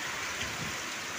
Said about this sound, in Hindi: देखिए पूरा बहुत भयंकर बारिश हो रहा है।